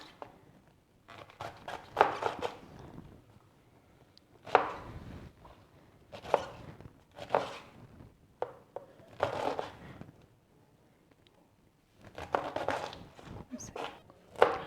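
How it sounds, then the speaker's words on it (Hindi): A knife chops cabbage finely for coleslaw on a board, bursts of rapid close chopping strokes separated by pauses, with a voice talking between them. "इस तरीके से काटना है कि ये थोड़ा सा लंबा लंबा रहे और बिल्कुल बारीक रहे"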